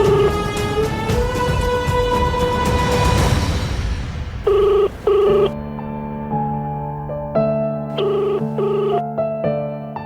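A home telephone rings on and on without being answered, its electronic ring tones coming in repeated clear bursts after an opening stretch of dramatic background music, with no one speaking.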